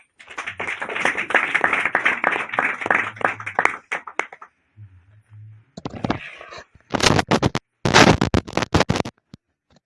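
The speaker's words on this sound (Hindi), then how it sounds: "तो स्वागत करेंगे तालियां से" Audience clapping to welcome a guest at a Christian church gathering: a dense, steady round of claps for about four seconds, a short lull, then several sharp, loud bursts of clapping near the end.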